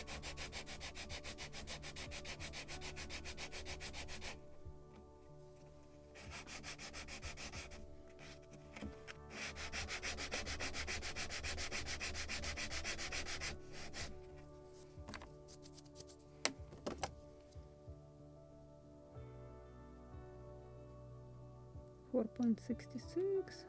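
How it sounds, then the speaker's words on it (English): Sanding a thick wooden part of a model of the 1776 gunboat Philadelphia, heard as repeated rubbing strokes in bursts that come and go, with pauses and scattered light clicks and taps between them. "So it's here, the thickest part, where I have to sand more."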